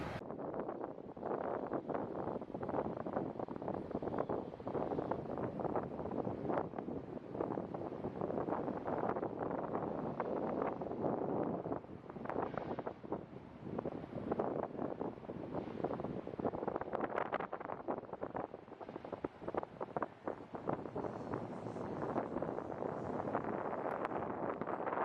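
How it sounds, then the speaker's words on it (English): Strong, loud wind buffeting the microphone at the top of Ponce de Leon Inlet Lighthouse in Florida, a continuous roaring rumble with gusty surges throughout and no talk. "it's incredibly windy up here"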